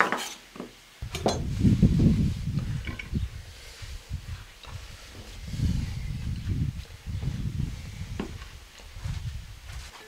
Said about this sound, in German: Die wird in der Mitte durchgeteilt und in Halbmonde geschnitten.